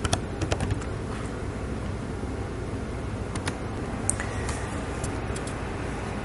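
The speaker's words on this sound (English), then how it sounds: "I wanted to type Molden and then model.mopac" Typing on a computer keyboard while entering commands for molecular modelling software, with scattered soft key clicks that come in quick bursts and isolated taps over a steady background hiss.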